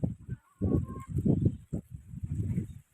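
A hen that has been sitting on eggs clucks and squawks up close in short, loud, agitated bursts, pausing briefly between calls.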